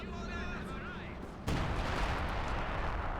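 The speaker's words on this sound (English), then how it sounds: "Mortar fire, Sturm Panzer fire here." In Company of Heroes 2, mortar and Sturm Panzer fire come through as dense, rumbling battle noise. It jumps to a loud, sustained blast of gunfire and explosions partway through, with a voice talking over the game audio.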